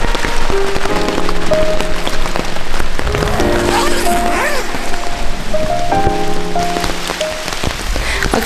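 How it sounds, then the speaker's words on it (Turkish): Night rain falling on a campsite in a national park in autumn, a steady dense patter on tent and ground, loud and continuous, with faint tonal sounds behind it and no clear talk. "Akşam yemeğinden sonra saat 8 gibi başlayan yağmur sabaha kadar devam etti."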